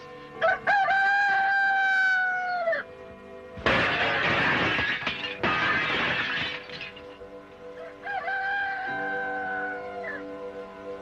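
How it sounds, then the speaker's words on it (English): A rooster crows loudly nearby, then a harsh noisy clatter breaks in, followed by another long crow trailing off. "I'll wake up the royal roosters."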